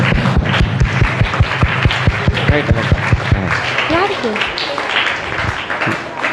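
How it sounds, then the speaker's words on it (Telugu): An audience at a VBS programme claps in a quick, rhythmic burst of hand claps, with a voice talking over them. "మరొకసారి చప్పట్లు కొడదాం."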